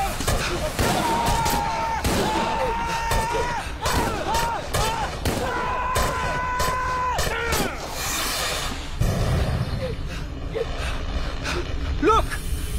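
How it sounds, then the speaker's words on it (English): Fireworks burst in a dense volley of thuds and crackles for a radio drama, with whistling tones rising over the booms and voices calling out beneath the noise. "It's fireworks!"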